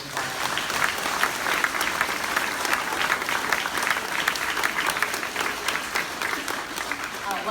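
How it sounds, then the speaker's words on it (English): A school audience at the Harrison Elementary groundbreaking ceremony claps for a parent volunteer, giving sustained, dense applause throughout at a steady, moderately loud level with no one speaking. "So can we give her a very big round of applause?"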